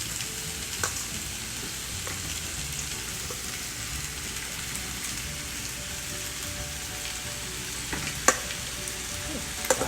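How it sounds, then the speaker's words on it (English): Rice fries with egg in a hot pan, a steady close sizzle with faint scraping stirs and a few small clicks of a utensil, no voices. "now we're going to put in the rice."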